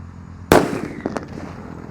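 A single sharp, loud bang from a jumbo firecracker buried in the ground bursts suddenly, followed by brief crackling debris and a fading rumble.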